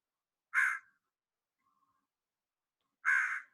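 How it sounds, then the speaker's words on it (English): A crow scolds with two loud, harsh caws spaced a few seconds apart, close and alone against silence. "our next example here is going to be actually a crow doing what we call scolding"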